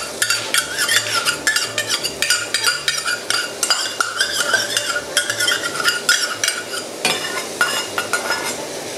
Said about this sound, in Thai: เราใส่น้ำมันหอยลงไปนะคะน้ำมันหอยนางรมนะคะ